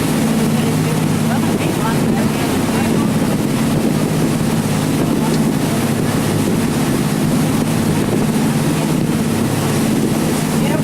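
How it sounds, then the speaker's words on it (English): A ferry on open water heading toward Haines, Alaska, its engine giving a steady low drone under continuous loud wind buffeting and rushing water throughout. "We're on the ferry heading toward Haines."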